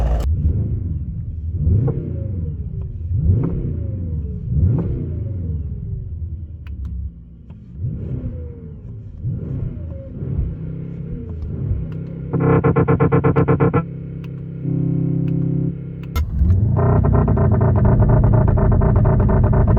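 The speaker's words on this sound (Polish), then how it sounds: "teraz posłuchajcie, jak brzmi auto w kabinie." A Mercedes S63 AMG W223 with a 4.0 V8 rated at 802 hp is heard from inside the cabin, its engine rumbling in repeated revving surges, then settling into long sustained droning tones, loud and with no talking.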